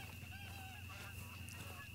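Geese honk faintly overhead in the hunting game theHunter: Call of the Wild, flying in formation over the Hirschfelden reserve; soft scattered calls rise over a steady ambient hum.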